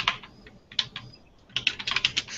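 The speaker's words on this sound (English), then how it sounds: "I'm really distracted by Brenda's typing." Typing on a computer keyboard during an online webinar: quick bursts of clicking keys, a short lull, then a denser run of keystrokes close by, with no talking.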